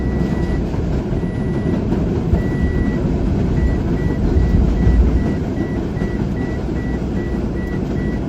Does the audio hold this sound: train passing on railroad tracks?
yes